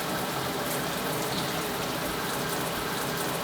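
Steady broadband spray of water runs continuously while hair is washed during a barbershop haircut, a close, even hiss with no talk over it.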